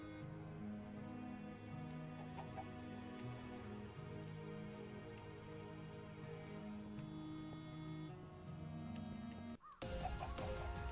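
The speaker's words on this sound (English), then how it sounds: "And it sounds like a crow somewhere as well." A crow caws a few times somewhere in the distance of a modded Minecraft world, the faint calls sitting under a steady, layered wash of game ambience and music.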